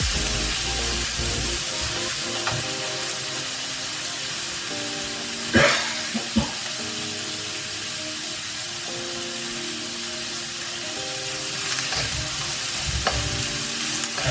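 A stir-fry of noodles sizzles loudly and continuously in a pan, with a couple of sharp scraping stirs in the middle and a persistent hissing fry throughout.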